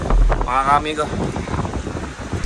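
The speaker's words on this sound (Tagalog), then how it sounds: "Lakas na ng hangin" Strong typhoon wind buffets the microphone in heavy, roaring gusts while someone speaks briefly over it.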